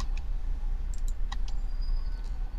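Someone types networking commands for a router on a computer keyboard, giving a few light, scattered key clicks over a steady low background hum.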